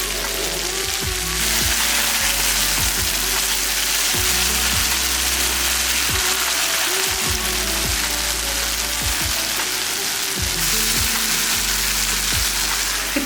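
Stuffed brinjals frying in oil in a covered pan, a steady loud sizzle and crackle throughout with occasional low knocks and pops, no voices.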